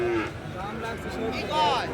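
A white Sahiwal cow lows nearby at a cattle market, drawn-out moos rising and falling over a busy background of chatter and crowd noise.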